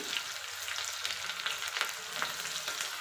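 Mustard seeds and onion frying in hot oil for a vegetable sambar, giving a steady close sizzle with scattered pops and crackles throughout, no voices.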